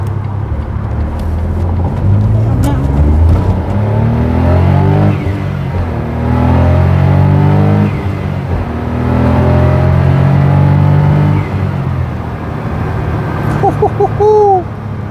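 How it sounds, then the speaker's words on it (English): A Smart Roadster W452 sports car engine revs up through a series of quick gear changes, each surge climbing in pitch before dropping at the shift, loud and close from inside the car. "Those are not smooth gear changes, but they are notably quicker than the standard Smart."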